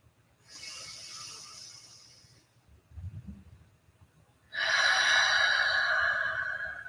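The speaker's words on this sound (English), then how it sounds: "let's take a few breaths in through the nose" Deep yoga breaths drawn in through the nose make a soft, hissing inhale, then a low pause, followed by a louder, longer rushing breath close to the listener.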